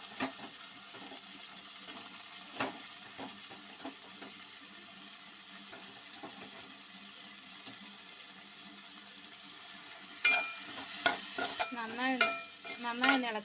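Cooked jackfruit seeds are stirred into a sizzling pan for a spinach thoran. Soft scrapes and taps sound over a low frying hiss, and a louder burst of clattering stirring and sizzle comes near the end.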